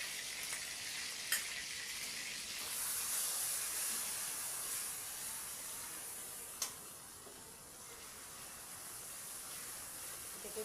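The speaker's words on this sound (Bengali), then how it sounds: "আদা রসুন পেঁয়াজ সব একসঙ্গে বাটা আছে এটা আমি দিয়ে দেবো তেলের মধ্যে" Ginger, garlic and onion paste fries in oil, a soft, even sizzle heard fairly faint and steady, broken by a couple of brief sharp clicks from the pan.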